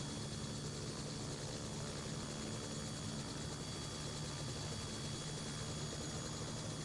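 A helicopter's rotor and engine drone steadily and loudly throughout in the mobile game Helicopter Simulator 2021 SimCopter, a dense, unchanging whir with no voices.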